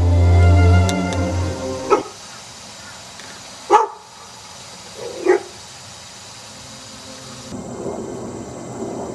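A few sharp dog barks spaced seconds apart over a low rumble, like distant thunder and steady rain, with no voices.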